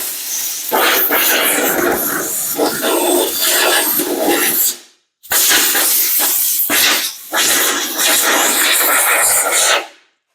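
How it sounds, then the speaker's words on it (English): Compressed air blasts onto faded ATV plastic to lift flaking paint, loud close hissing bursts that run several seconds, break off briefly, then resume in shorter spurts with a final cutoff. "So you can use compressed air"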